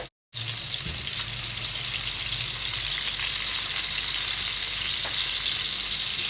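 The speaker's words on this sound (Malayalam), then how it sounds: "നാലെണ്ണം ഒരുമിച്ച് ആദ്യത്തെ സ്റ്റെപ്പിൽ നമുക്ക് ഫ്രൈ ചെയ്തെടുക്കാം." Four mutton burger patties sizzle in a pan, a steady, loud, close hiss with faint crackles that starts after a brief moment of silence and carries on without talk.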